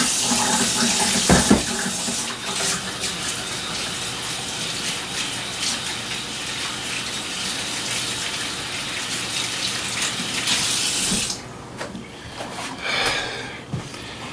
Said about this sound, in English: Now I'm going to wash my hands because I touched raw meat.